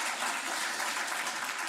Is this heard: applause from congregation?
yes